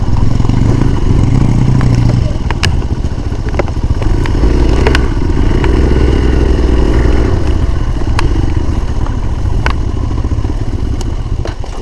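A motorcycle engine runs loud and close throughout while the bike is parked on stony ground at a hillside sightseeing spot in Keonjhar, with sharp clattering knocks scattered over the steady rumble.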